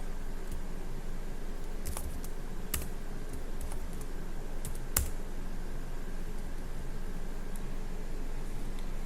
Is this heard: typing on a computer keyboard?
yes